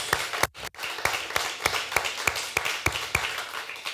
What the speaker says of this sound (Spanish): Dale una ofrenda de palmas a tu Dios.